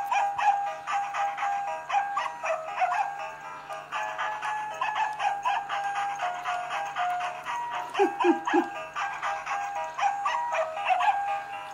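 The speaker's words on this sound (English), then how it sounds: "This is the puppy dog." Hallmark singing Christmas puppy dog toy, squeezed to play a tinny electronic tune with rhythmic barking-style notes throughout, close and fairly loud, with a brief yip-like squeak near the end.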